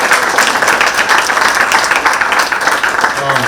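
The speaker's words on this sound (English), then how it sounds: "Can we get a quick round of applause for all our performers and leaders here?" Audience applause for student performers and leaders at a school creative nonfiction event: a loud, dense, continuous wash of clapping from a crowd, close and sustained throughout, with some murmuring voices mixed in.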